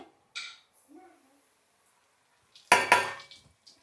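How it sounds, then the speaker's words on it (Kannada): Semolina poured into a pan of ghee with fried almonds and cashews, heard as two loud close rattling, clattering bursts near the end, with scattered faint clinks earlier and otherwise quiet. "ಇವಾಗ ನಾನು ರವೆ ಹಾಕ್ತಾಯಿದ್ದೀನಿ."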